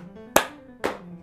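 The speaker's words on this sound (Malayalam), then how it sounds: "ക്ലാപ്പ്, ഇവിടെ പഞ്ച്. അതാണ് തേർഡ് പാറ്റേൺ എന്ന് പറയുന്നത്." Two sharp hand claps about half a second apart in a clap-then-punch rhythm pattern for an icebreaker rhythm game, close and crisp with quiet gaps between them.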